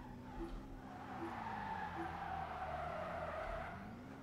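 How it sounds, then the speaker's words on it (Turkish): A Toyota Supra MK5 slides slowly in the video game Car Simulator 2, with a long continuous tire skid and engine drone at moderate level, heard alone without talk. "Çok yavaş kayıyor."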